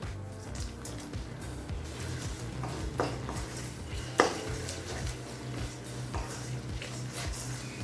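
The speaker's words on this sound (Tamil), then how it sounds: "இப்போ எல்லாத்தையும் சேர்த்து 1 நிமிஷம் வரைக்கும் நல்லா வதக்கிக்கலாங்க" Spoon stirring and scraping chicken gravy masala in a pan, a steady low churning with a few light metallic knocks, close and moderately quiet, no talking.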